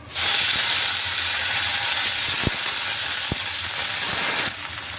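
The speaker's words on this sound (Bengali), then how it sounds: "লঙ্কা জিরে আর হিংটা যেহেতু দিয়েছি একটু ভাজা ভাজা হয়ে গেছে এখন দিয়ে দিচ্ছি প্রথমে আমি আলুটা" Potatoes go into hot oil already fried with chilli, cumin and asafoetida, a loud continuous sizzle and hiss with a couple of sharp utensil knocks, cutting off near the end.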